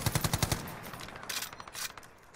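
Gunfire in the Warzone video game: a fast burst of about six sharp rounds opens the clip, followed by scattered quieter shots and rattling in the background.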